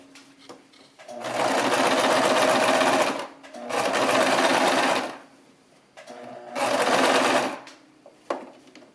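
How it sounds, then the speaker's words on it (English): A sewing machine stitches a seam on a spring envelope pillow in three loud, close, sustained runs of fast mechanical whirring separated by short pauses, with the bobbin nearly out of thread. "Just checking to make sure it's sewing, because I know that bobbin is about to run out of thread."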